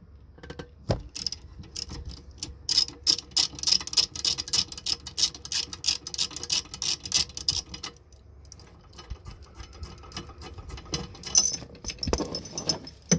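A T50 bolt is worked loose from a semi truck seat, heard as a rapid ratcheting click train up close, pausing briefly midway before the ratcheting resumes.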